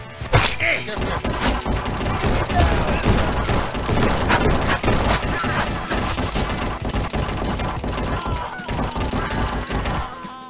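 Rapid revolver gunfire in the VR shooter Guns'n'Stories Preface, a dense, loud barrage of shots with clattering impacts lasting throughout, over a game soundtrack.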